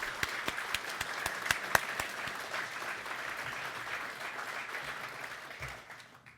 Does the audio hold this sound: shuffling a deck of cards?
no